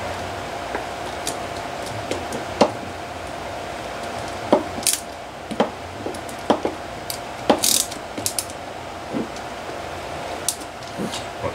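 Screws being loosened on a Rossi 45 model engine with a hand driver: scattered small sharp clicks and ticks over a steady low background hum, close and fairly quiet, with no talking.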